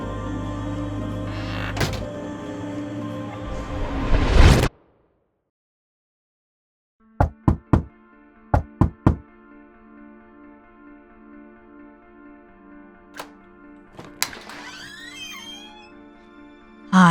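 Knocking on a door in an animated story: two short groups of sharp, hollow raps, one pair after another, stand out after a burst of music cuts to near silence, with faint tones lingering.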